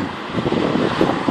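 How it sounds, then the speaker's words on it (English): Wind buffets a microphone outdoors in wet, misty weather, a loud continuous low rumble with uneven gusty surges and no voices. "It's windy."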